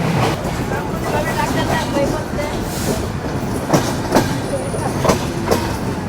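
The Chilahati Express passenger train on the Chilahati–Dhaka route rumbles along at speed, with a steady rolling roar and occasional rhythmic clacks of wheels over rail joints, heard from inside, with faint voices in the background.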